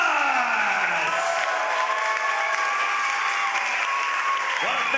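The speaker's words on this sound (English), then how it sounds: "let's give these gentlemen a round of applause." Crowd applause for two boxers after a six-round bout at a fight night, a dense continuous wash of clapping and cheering with a tonal whistle-like sweep running through it.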